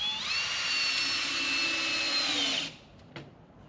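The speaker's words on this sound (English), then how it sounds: "I'm going to throw a couple wood screws in so the ramp doesn't fall off." A power drill drives wood screws into a wooden ramp, one loud, steady whirring run of about two and a half seconds that stops abruptly, followed by a faint clunk.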